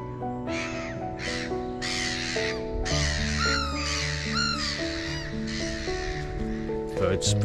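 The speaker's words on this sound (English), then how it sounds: "Birds spreading their wings in the morning." Crows caw repeatedly in harsh bursts over sustained musical tones in the morning in Berkhamsted, loud and close, with the calls spread across the whole stretch.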